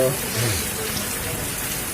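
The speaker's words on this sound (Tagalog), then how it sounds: "delikado rito sa malakas yung ulan" Heavy rain pours in a steady, dense hiss on a misty hillside, close and continuous, with a person's voice talking briefly at the start.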